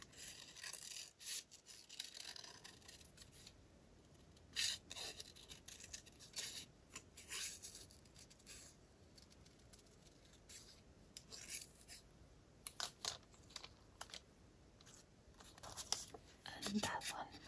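Scissors cut a piece of rice paper for a craft specimen: quiet, scattered snips and papery rubbing, close and soft, with faint low voice in the background.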